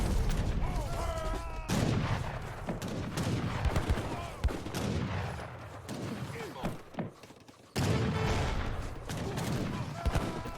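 Heavy cannons and gunfire in a match of the Age of Empires III strategy game, repeated booming shots and crackling volleys layered over a dense battle din, with a commentator talking over it.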